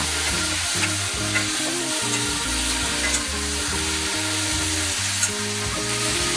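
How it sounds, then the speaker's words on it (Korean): Bok choy and king oyster mushrooms stir-fry over high heat in a pan, a loud continuous sizzle with repeated rhythmic scraping and tossing strokes throughout, close up and without talk. "청경채와 새송이 버섯을 넣어서 센 불에서 볶습니다."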